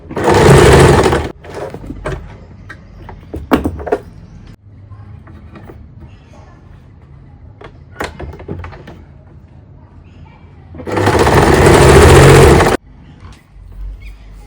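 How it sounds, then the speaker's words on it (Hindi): A sewing machine stitches a kurti in two loud, close bursts at the start and near the end, with fabric handling, clicks and faint talk in between. "यहाँ पर हम इसको इस तरह से पलटते हुए एक सिलाई इसके ऊपर फिर से लगाएंगे।"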